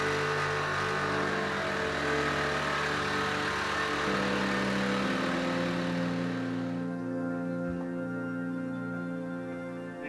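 Small pump engine running steadily on top of a domestic oil tank, transferring heating oil through a hose into an IBC tank on a trailer; a constant, fairly loud mechanical drone with no talk.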